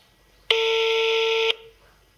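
Telephone tones while calling a friend on a studio show, a single steady electronic tone held for about a second, clear and close, then fading into quiet room sound.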